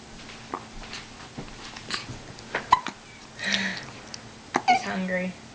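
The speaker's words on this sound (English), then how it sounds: "Do you have the hiccups?" A baby gives a series of small, irregular hiccups, soft and close, interspersed with faint breathing and light fussing sounds.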